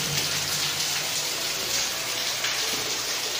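Rain dripping and spattering inside an old tunnel deep underground, a steady wet hiss of drops falling onto surfaces close by, continuous and fairly loud with no talking.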